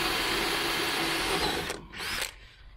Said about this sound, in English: We'll just drill the plywood.